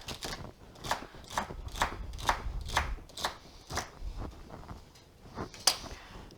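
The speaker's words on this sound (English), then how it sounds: "Got 3 things of celery here. Just going to roughly chop that." Three ribs of celery roughly chopped with a knife: a steady run of crisp, close chops, about two or three per second, with no talking.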